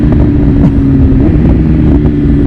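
A BMW M1000RR superbike with a carbon build roars loud and up close, its engine note shifting as revs drop through gear changes, with no talk over it.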